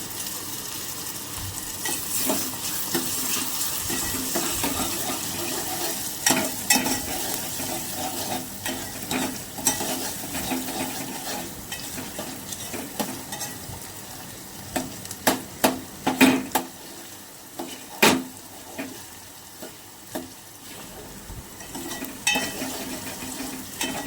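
A tomato frying in hot oil in a pan for a village-style mutton curry: a continuous sizzle with a spatula scraping and clinking against the pan in irregular bursts, and no voices.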